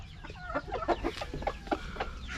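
Chickens cluck in short, repeated calls inside a coop where hens are laying eggs, several birds overlapping at close range in a steady, busy rhythm with no talk.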